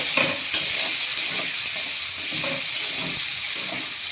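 Chopped garlic sizzling in a hot wok for a yogurt chicken (doi chicken) dish: a steady, close frying hiss with soft stirring scrapes and a sharp tap near the start, with no talking.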